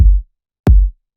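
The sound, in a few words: kick drum sample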